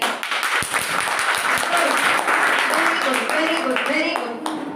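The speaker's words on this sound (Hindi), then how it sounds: "UPSC के लेवल की ताली नहीं है" A classroom of students claps briefly and loosely, scattered hand claps blending into ongoing murmuring voices and talk close by.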